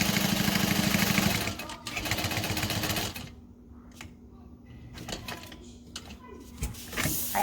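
A sewing machine stitching a backpack seam: a loud, even mechanical whir for about three seconds, then quieter clicks and handling noises before the motor starts again briefly.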